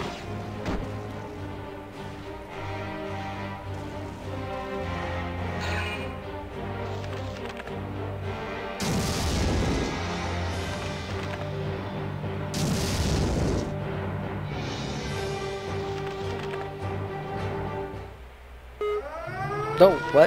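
Tank cannon fire in the video game Valkyria Chronicles II: two heavy booming blasts ring out over continuous orchestral game music, with a brief burst near the end.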